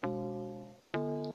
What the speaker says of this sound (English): And what we have next is the PH log drum,